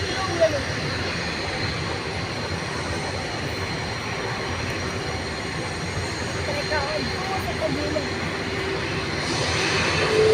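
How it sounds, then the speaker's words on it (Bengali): Engines of a US-Bangla airliner powering up at a Bangladeshi airport make a broad, steady roar that swells slightly toward the end. A person talks faintly over it. "ইউএস বাংলা এটাও চলে যাবে এখন। এটা পাওয়ার দিতেছে আস্তে আস্তে।"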